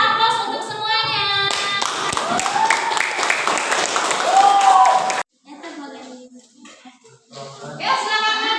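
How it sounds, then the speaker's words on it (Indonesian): Students in a classroom lesson clap for all the presenting groups. A burst of applause rises under lively children's voices and chatter, then cuts off abruptly, leaving quieter talk. "Yuk kita aplaus untuk semuanya."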